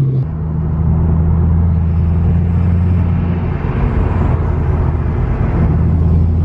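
An Audi R8 drives along a seaside road in Croatia, heard as a loud, steady engine and road drone with a low humming tone throughout, alone and without talk.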